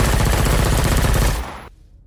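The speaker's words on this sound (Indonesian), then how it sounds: "mereka pun tewas diberondong peluru panas" A rapid burst of automatic gunfire, loud and close, with dense repeated shots rattling for about a second and a half before cutting off abruptly into silence.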